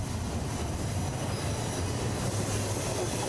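A BNSF train with a DPU locomotive rolls along the rails near Tehachapi, a steady, loud rumble of wheels and railcars with faint squealing running continuously throughout.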